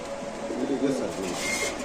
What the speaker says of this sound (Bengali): নীল চোখের মাসাল্লাহ কবুতর দেখেন